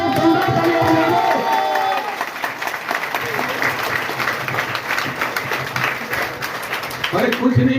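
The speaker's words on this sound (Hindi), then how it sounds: "एक जोरदार तालियां बजा दो" A large audience at a motivational business seminar bursts into loud applause and cheering, a dense roar of clapping that swells and fades while a speaker's voice carries over it at the start and end.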